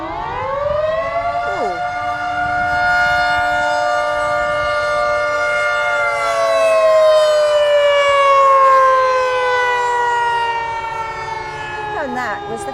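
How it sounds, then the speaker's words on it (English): A loud wailing fire siren holds a steady rising and falling tone for many seconds, far-carrying and droning, with brief speech barely audible beneath it. "that was the fire sirens"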